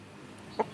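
A small, nimble Javanese rooster gives a single short cluck near the end, heard close and alone against a quiet farmyard background.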